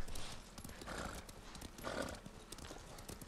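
Hooves clip-clop steadily from a horse in the samurai game Ghost of Tsushima, set on Tsushima island; the rhythmic hoofbeats come through clearly and close, with a brief whinny-like swell, and nobody talks over them.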